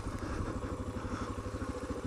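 A Suzuki DR650 dual sport motorcycle thumps along with a rapid, even single-cylinder pulse, a steady mid-level engine beat running through the whole moment.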